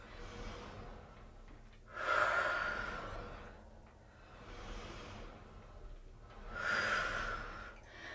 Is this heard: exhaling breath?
yes